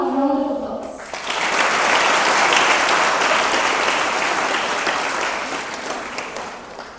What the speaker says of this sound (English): Let's welcome Sir with a loud round of applause.